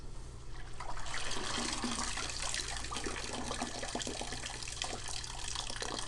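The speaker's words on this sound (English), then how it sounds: "Water's going through it, isn't it?" Water pours and trickles steadily through a soaked sponge into a red bucket, a continuous splashing wash heard close up with no talking.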